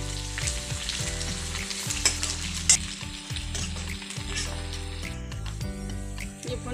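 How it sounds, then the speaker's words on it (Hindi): Garlic and onion fry in hot, already spiced oil with a loud, steady close sizzle and occasional stirring, over a low tonal background hum. "अब उसके बाद हम लहसुन प्याज डालेंगे।"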